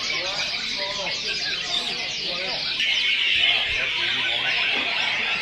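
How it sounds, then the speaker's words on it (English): Red-whiskered bulbuls call in a dense, continuous chorus of high chirps from many caged birds nearby, steady and loud throughout, with other bird sounds mixed in. "These birds behind me are the red-whiskered bulbuls, or the jumbles."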